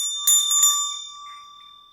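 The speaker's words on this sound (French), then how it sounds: "J'ancre ces suggestions en faisant sonner la petite cloche." Small bell rung in a quiet room during a hypnosis session, struck about three times in quick succession, its bright ringing tone lingering and fading slowly alone.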